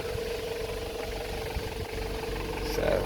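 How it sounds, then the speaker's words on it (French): A 1996 Toyota Hiace turbo diesel van running, a steady low rumbling engine drone with a faint whine, continuous and close, rising slightly toward the end. "Le torque du moteur diesel, le son."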